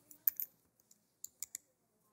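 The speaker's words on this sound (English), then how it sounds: "We're going to type in the birthday without any dashes." A few sparse, light keyboard taps entering a birthday number, with short gaps between them, close and quiet.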